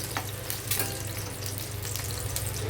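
Pointed gourd fries in a pan with a continuous close sizzle, broken by a few sharper spits and pops.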